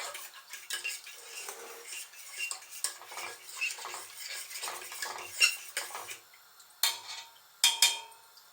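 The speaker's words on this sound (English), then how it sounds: "Keep stirring it as best we can." Custard stirred in a saucepan, a metal spoon repeatedly scraping and clinking against the pan in irregular strokes, close and clear, with no background sizzle or talk.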